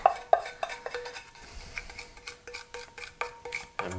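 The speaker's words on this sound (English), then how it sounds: "I'm going to whisk some of the dry ingredients together" Whisk rattling rhythmically against a bowl while dry ingredients for persimmon brownies are mixed, a steady run of close metallic taps and scrapes with no talking.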